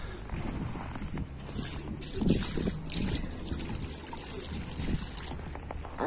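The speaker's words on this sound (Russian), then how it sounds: "Водички набрал им, дам попить." Water trickles and pours into a drinking container for pet decorative chickens, a faint, continuous dribbling sound with a few brief louder splashes.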